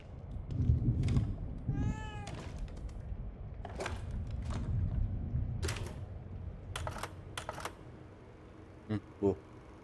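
In The Evil Within 2, a cat gives a short, rising meow early on, surrounded by sharp clicks and clacks and quiet background ambience.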